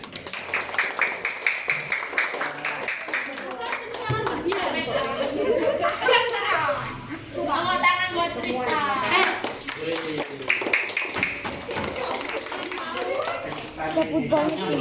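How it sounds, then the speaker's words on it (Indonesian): Children at a Catholic primary school clap together for a classmate named Bian, a brief ragged burst of hand claps mixed with chatter and kids' voices talking over it in a busy room. "Tepuk tangan buat Bian."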